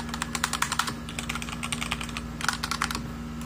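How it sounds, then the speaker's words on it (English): Typing on a Razer Huntsman Tournament Edition keyboard, steady bursts of quick keystrokes close up, with a faint constant hum underneath and no talking. "the Razer Blade Huntsman Tournament Edition"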